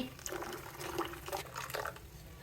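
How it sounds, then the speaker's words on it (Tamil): Tamarind water is poured into a clay pot while fish curry is being made, giving a steady gurgling and splashing pour at close range for a couple of seconds. "புளி தண்ணி"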